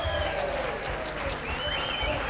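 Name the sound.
studio audience applause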